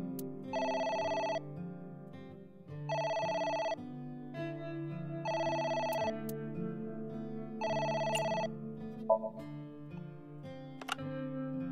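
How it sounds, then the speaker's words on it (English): A telephone rings in the game AI: The Somnium Files, four evenly spaced electronic ring bursts about two seconds apart over quiet background music, followed by a few small clicks. "It's the phone. Maybe try picking it up?"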